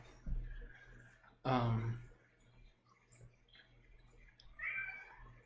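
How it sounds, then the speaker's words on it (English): A cat yowling and crying indoors behind a person's speech, one loud wail near the middle and fainter cries later, set against a low hum. "It's my cat back there freaking out."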